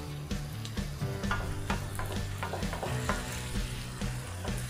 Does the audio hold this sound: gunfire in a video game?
no